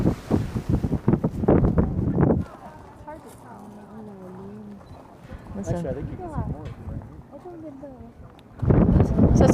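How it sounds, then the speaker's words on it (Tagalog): Strong wind buffets a phone microphone on the Grand Canyon Skywalk, with loud rumbling gusts at the start and end and quieter talk in between. "Sa sobrang lakas ng hangin, yung focus ng phone nawawala."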